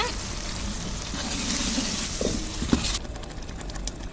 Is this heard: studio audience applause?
no